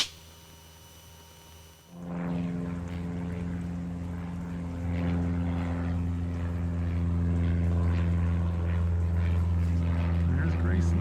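A Cessna 150 light airplane's propeller engine drones loud and steady in flight on a rainy training day, starting after a quieter opening and building to a strong harmonic hum that holds to the end.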